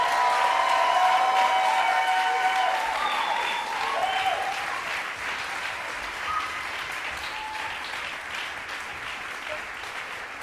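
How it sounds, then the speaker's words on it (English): A large convocation audience at a school of music ceremony applauds award recipients as they leave, a dense, steady wash of clapping that starts full and gradually thins out over about ten seconds, with faint tonal crowd noise early on. "Why don't you give them another round of applause as they leave?"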